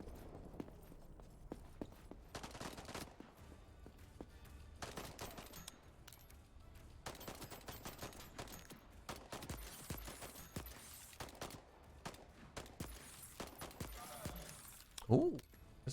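Repeated gunfire from a weapon in the video game Voidtrain, with bursts of shots scattered across the stretch among mechanical game noise and music, moderately loud, with faint talk under it.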